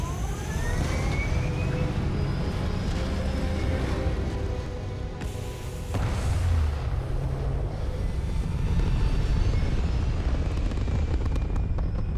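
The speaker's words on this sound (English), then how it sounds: "thrusters firing" Spaceship thrusters fire in Starfield with a loud, continuous roaring rumble and hiss, surging again after a brief dip midway and holding dense to the end, no talk over it.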